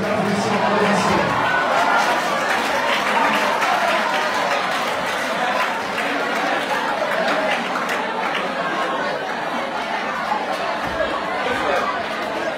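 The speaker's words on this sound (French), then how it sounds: "Mesdames et messieurs, applaudissements." Audience applause at a debate on education in Guinea, steady clapping from a room of people mixed with chatter and a few chuckles, continuing evenly throughout.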